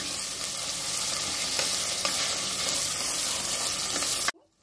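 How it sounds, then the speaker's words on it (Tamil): Three large tomatoes being sautéd in hot oil for a chicken salna curry, a loud steady sizzle close up with faint stirring scrapes, cutting off abruptly near the end. "3 பெரிய தக்காளி இது கூட ஆட் பண்ணிக்கலாம். நல்லா குழைய நல்லா இது பண்ணுங்க, வதக்கணுங்க."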